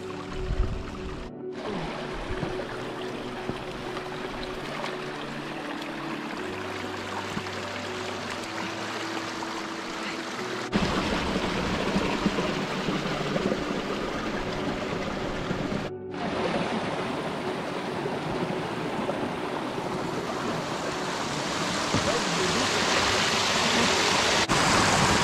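Stream water surges through a beaver dam that has just been torn open, roaring loudly and continuously with a broad rushing wash that swells even stronger toward the end; no one speaks.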